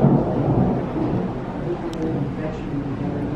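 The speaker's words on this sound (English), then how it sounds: "The thunder and the lightning is incredible." Heavy, continuous rumbling thunder during a crazy storm at Castaway Cay island, loud and close, with a steady low roar and no break throughout.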